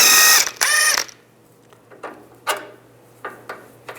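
A 17mm socket on a ratchet wrench loosens a sway bar link nut on a 2005-15 Nissan Xterra: two loud rapid clicking ratchet bursts up close, then several sparse metallic clicks and knocks.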